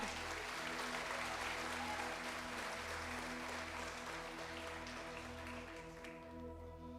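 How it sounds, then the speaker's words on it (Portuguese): Loud, sustained applause from a church congregation fills the space steadily, easing slightly toward the end, with no voices standing out. "aplaude bem forte o Senhor"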